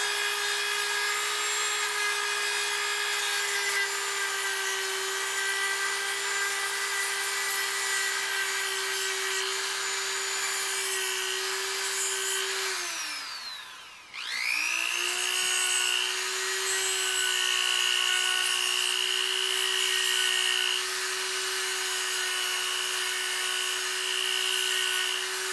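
An 80-grit sharpening stone twisted and rubbed steadily across a surface, a long continuous grinding rasp with a steady tonal whine, interrupted by one short pause midway, close and loud.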